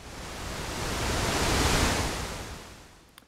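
Minnehaha Falls waterfall, a dense broadband roar that swells and then eases over a few seconds, heard up close and alone.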